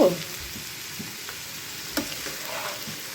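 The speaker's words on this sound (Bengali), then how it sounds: "এখানে আলু ভাজি হচ্ছে" Pieces of potato with the skin on fry in a pan with a steady close sizzle, punctuated by a few soft stirring knocks, with no talking.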